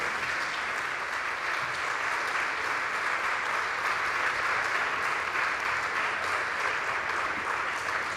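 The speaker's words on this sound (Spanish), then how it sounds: "Un aplauso más que merecido para Carlos Quílez" Steady, enthusiastic applause from an audience at a book presentation for author Carlos Quílez, holding at an even level throughout, dense and continuous.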